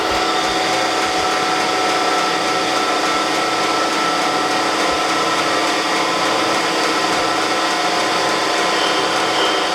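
Surface grinder wheel grinding across a magnetic chuck, a loud continuous high whine with a steady broadband hiss and no breaks, close up with no talk.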